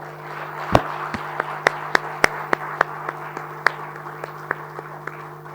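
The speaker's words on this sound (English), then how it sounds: "I'd like you to give them a big round of applause, please" A few scattered hand claps ring out sparsely and unevenly at an APICTA awards ceremony, sharp and separate over a steady low hum, never building into full applause.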